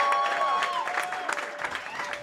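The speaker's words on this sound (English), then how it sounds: "Clap it up for Mike Lawrence versus Zac Amico." An audience at a comedy roast event claps and cheers in a dense, sustained burst of applause, loud and close, with some crowd voices mixed in.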